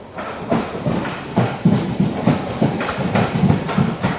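The Seshadri Express with new LHB coaches pulls out of Gudivada Junction, its wheels clacking over rail joints in a steady rhythmic beat with a low rumble, close and loud.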